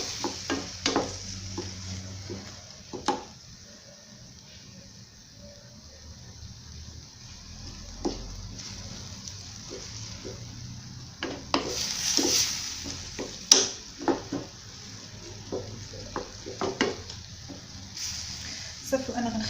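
Apples caramelize in butter in a pan with a soft, steady sizzle, punctuated by scattered clinks and scrapes of stirring; the cooking sound stays fairly quiet and close.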